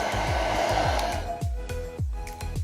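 A hair dryer blows steadily and loudly up close, warming the edges of a craft piece, its broadband rush wavering slightly as it is moved around, with repeated low thumps underneath.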